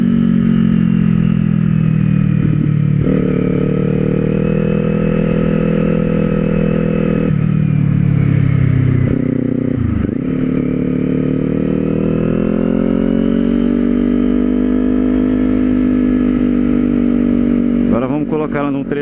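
Kawasaki Z400 motorcycle with an aftermarket exhaust accelerating hard on a busy highway, its engine tone climbing and shifting through gears, loud and close under steady wind rush.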